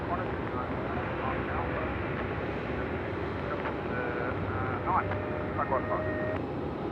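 Qantas flight 699 airliner departing runway 27 at Melbourne at night, a steady distant jet roar with wind rumble on the microphone, some faint background tones, continuous throughout.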